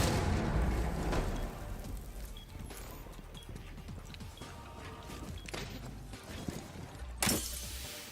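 A detonation goes off in a Rainbow Six Siege match, a sharp burst landing late amid constant noisy game action and rumble.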